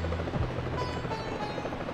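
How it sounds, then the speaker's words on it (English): Helicopter-like spinning whirr from Mario in the Super Mario Galaxy video game, a steady loud rotor drone that fills the whole moment without talk. "Yo, Mario's a fucking helicopter."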